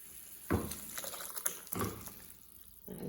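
Liquid is poured into a pot of tender-coconut-water rasam with crushed garlic, in short splashing bursts separated by quieter pauses, fairly faint and close by.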